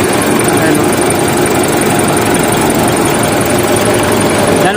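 A car engine runs loudly up close at low idle with the air conditioning on, a heavy, steady vibrating drone and a constant whirring hum over it.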